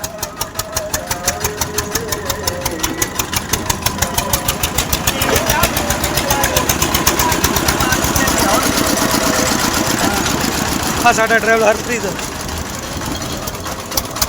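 A 60-horsepower 4x4 vehicle's engine chugs with a rapid, regular pulsing beat that swells slightly in loudness, close by, while someone talks over it.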